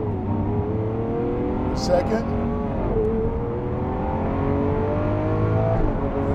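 Lamborghini Aventador SV engine pulling steadily under acceleration from inside the cabin, with rising engine tones and a brief dip around a gear shift, heard under a person speaking.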